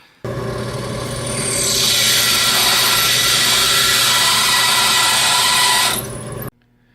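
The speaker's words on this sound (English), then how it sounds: "You will get sparks if you drill it with a regular drill bit and drill press." A power drill whirs up loudly, holds a high, steady grinding whine for about six seconds while drilling a ferro rod, then cuts off abruptly to near silence.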